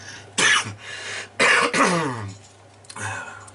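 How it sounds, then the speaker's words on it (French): Two harsh coughs close to the microphone, followed by a softer throat-clearing cough a moment later. "Désolé si je tousse."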